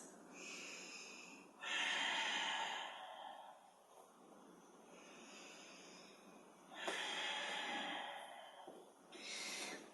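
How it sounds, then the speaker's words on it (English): Slow, deep breaths during a yoga session, each long airy inhale and exhale rising and fading in a steady rhythm, close and fairly faint, with no talking over them. "We'll take just a couple more breaths."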